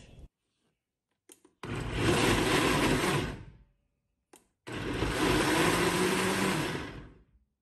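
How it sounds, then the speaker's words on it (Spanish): Blender pulsing a coarse salsa with onion and garlic, two loud whirring bursts of about two and three seconds each, separated by short pauses and brief clicks, no talk. "vamos a llevar a licuar. Apagando y prendiendo para que sea nada más como martajada la salsa"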